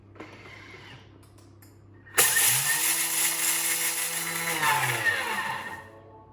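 A Thermomix kitchen machine mills lentils into flour at its top speed 10, bursting into a loud, close whirring roar with a rising motor pitch and rattling grains, holding for a few seconds before winding down.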